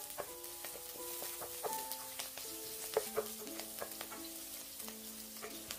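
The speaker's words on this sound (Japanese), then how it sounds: "中火にかけて油を熱したら長ネギ、生姜と葉角を入れて炒めます。" Leek, ginger and spices stir-frying in hot oil over medium heat: a steady sizzle and crackle, with spatula clinks and scrapes against the pan, close and fairly quiet, with no talking.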